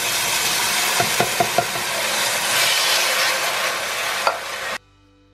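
Lightly drained canned tomatoes hiss and sizzle steadily in a pan, with several sharp utensil taps early on and an abrupt cutoff near the end.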